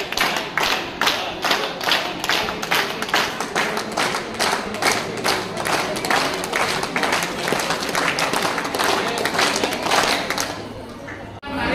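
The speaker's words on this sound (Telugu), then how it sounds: "30 చప్పట్లతో శుభాభినందనలు తెలియజేయాలి" An audience at a wedding anniversary ceremony with a homa and puja claps for a couple in a sustained burst of applause, with dense rhythmic clapping carrying on steadily before stopping abruptly near the end.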